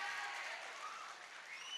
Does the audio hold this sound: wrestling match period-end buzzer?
no